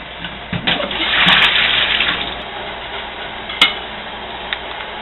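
Sanitizer liquid gushes and splashes through a home-brewing fermenter spigot for a few seconds, with small clinks and knocks along the way.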